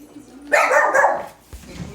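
Several dogs in a house, a family including puppies, break into a loud cluster of overlapping barks up close, followed by a brief quieter yip.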